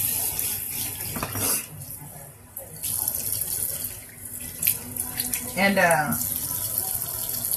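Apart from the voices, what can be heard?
water running from a tap while rinsing off lip scrub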